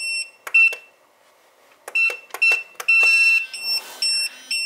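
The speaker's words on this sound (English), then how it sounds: "we can change it to the beep mode" A T118 wireless calling system pager beeps in short bursts: a couple of quick tones, a pause, then a rapid run of beeps and longer sustained tones, loud and close.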